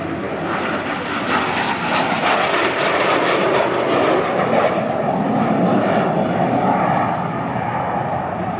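An A-37 Dragonfly jet roars past at an airshow, a loud continuous broadband engine rush that swells slightly and holds steady, with no talk over it.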